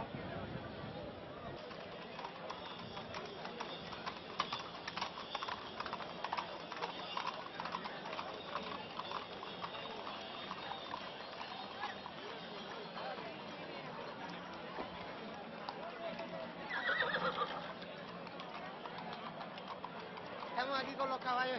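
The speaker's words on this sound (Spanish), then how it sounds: "Aquí con los caballos en directo" Horses at an equestrian fair, their hooves clip-clopping faintly under a constant wash of crowd noise and talk, with a brief louder burst near the end; no clear neigh stands out.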